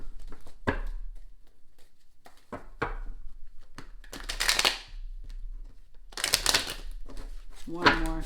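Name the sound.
shuffling tarot cards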